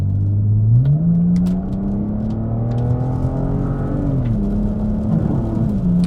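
A BMW with the N52 engine, around 66,000 miles, accelerates hard on a highway, a loud steady engine drone rising in pitch, dropping at an upshift, then climbing again, with no talking.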